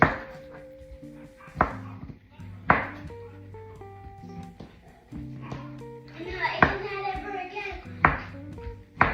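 Knife chopping salami on a cutting board, sharp isolated thuds spaced a second or two apart, heard under ongoing speech and background voices, including a child's.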